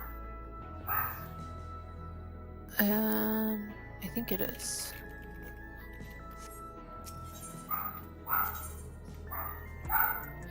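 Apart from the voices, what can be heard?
dog barking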